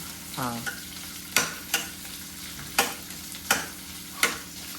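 Mutton with cloves and cinnamon sizzles as it is stir-fried and roasted in a pan, with a sharp utensil scrape or knock about once a second over the steady frying hiss.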